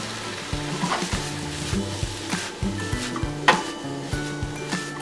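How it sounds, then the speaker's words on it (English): Peppers and onions sauté in a hot pan with a steady sizzle, punctuated by a rhythmic series of low clunks and scrapes as the vegetables are stirred and tossed, with no talking. "peppers and onions sauteing and filling up the kitchen with an aroma"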